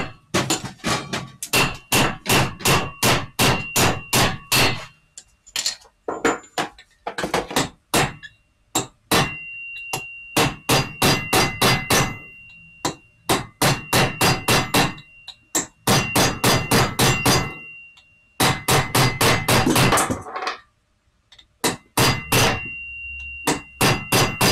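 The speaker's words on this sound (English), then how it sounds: "Hit the socket first?" Repeated loud metallic hammer blows ring against a socket during a Rotunda/Mazda transmission rebuild, coming in rapid bursts of clanging strikes separated by short pauses, close and without speech.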